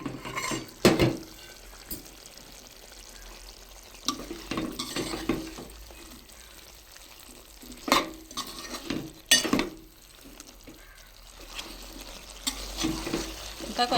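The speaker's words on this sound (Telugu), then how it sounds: "ఇవి వేసుకొని వేపేసుకుందామా" Chicken frying with chicken masala and chili powder, a low sizzle broken by repeated sharp clanks and scrapes of a spoon against the pan, close, with no talking.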